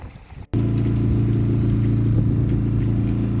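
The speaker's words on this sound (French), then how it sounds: "On a remis le moteur en route." A sailboat's engine starts up after a brief pause and then runs steadily at a low, even idle, close and fairly loud, with no talk over it.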